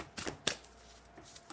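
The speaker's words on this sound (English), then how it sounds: "These are big cards. They're hard to hold, but we'll just do one shuffle" Large tarot cards being shuffled once, giving a few soft papery riffles and slaps spread across a short, quiet stretch with no talk.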